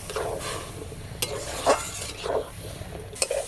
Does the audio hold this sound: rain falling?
no